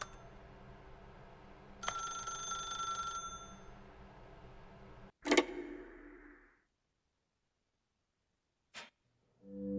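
A telephone ringing in the video game The Stanley Parable: Ultra Deluxe, a bright bell ring that breaks off, followed by a sharp handset clatter, then near silence and a few faint clicks.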